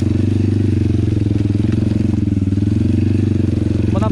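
A motorcycle engine with an oversized rear sprocket runs in first gear, giving a loud, steady, close rumble with a continuous pulsing beat and no talk.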